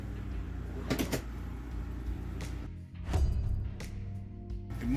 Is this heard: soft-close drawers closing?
yes